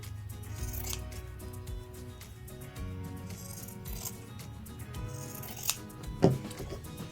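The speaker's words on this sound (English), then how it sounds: "So I've cut my seam about half what it was before." Sewing scissors snip through fabric to trim a dress seam allowance, soft close cuts and rustling cloth with a sharper metallic snip near the end, no voices.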